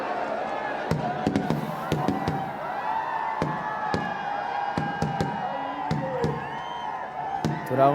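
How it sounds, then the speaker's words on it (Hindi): Fireworks burst after the burning of a Ravan effigy at a Dussehra ground celebration in Kota, a rapid series of sharp cracks and pops over a dense, continuous crowd roar with whistling and cheering. "तो रावण के दहन के बाद खूबसूरत आतिशबाजी"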